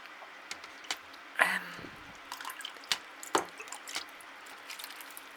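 Water drips and splashes irregularly while potted orchids are watered, with scattered sharp drops and a brief trickle over a quiet background.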